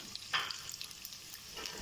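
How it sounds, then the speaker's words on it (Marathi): Sliced onions frying in hot oil for a quick egg biryani, a steady soft sizzle with a brief louder burst of crackle as they hit the pan, no voices. "आपलं तेल गरम झालंय, यात मी हे कांदे टाकून तळून घेणार आहे"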